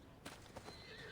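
A horse whinnies in Assassin's Creed Odyssey, a short, faint, distant neigh with a couple of brief accents in about a second.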